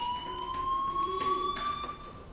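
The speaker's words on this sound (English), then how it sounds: "do you hear that fire alarm? That means you should be outside." A fire alarm in the video game Life is Strange sounds as a steady, shrill electronic tone with a faint undulation, continuous and somewhat distant over background noise.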